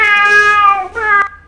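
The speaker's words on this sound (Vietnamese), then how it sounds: "Con mèo này," A cat meows from a sound effects library, a single clear, drawn-out meow followed by a shorter second call, close and alone.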